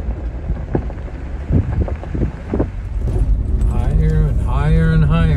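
Steady wind noise rumbles against the microphone by a river throughout, with a few brief knocks early on and a person talking over the later part.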